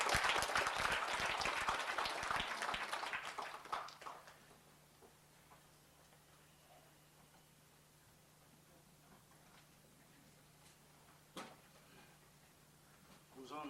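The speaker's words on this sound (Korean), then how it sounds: "역시 박수로 청해 주시기 바랍니다." Applause at a 2001 Korean human rights awards ceremony for people with disabilities, a dense burst of clapping that fades out after about four seconds, followed by quiet room tone with a single faint knock.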